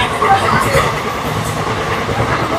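Inside a carriage of the Kolkata to Digha special train, wheels rumble with a steady clickety-clack, loud and close throughout.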